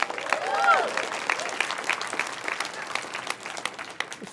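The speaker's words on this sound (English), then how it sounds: "Big round of applause for opting into something special." A live seminar audience applauds in a broad wash of clapping that swells early, then holds steady and thins toward the end, with a brief voice rising through the first second.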